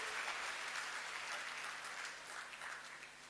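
An audience claps at a public event on a stage, a dense, steady patter of many hands that continues through the clip and tapers slightly at the end, heard from some distance without talk.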